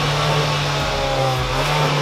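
A Kia Soul GT Line engine revs up close with its exhaust valve closed, giving a steady, muffled low drone that swells slightly toward the end, with no talking.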